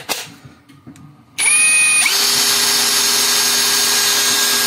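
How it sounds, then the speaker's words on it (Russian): LUDYVI BL150 cordless drill-driver with hammer-drill function, drilling: after a quiet start it spins up with a sharp whine, then runs loud and steady close by until the end, with no talking. "да, и поехать сверлить."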